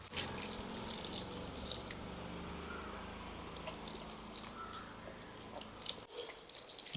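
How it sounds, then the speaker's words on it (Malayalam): Water pours from a container into a pot of freshly planted jasmine in a home garden, a soft continuous splashing stream that is fairly quiet, ends abruptly near the close, then trickles faintly. "കുറച്ച് വെള്ളം ഒഴിക്കട്ടെ."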